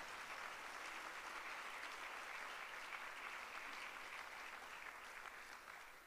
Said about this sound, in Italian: farei un grande applauso, grazie Elisabetta Sgarbi per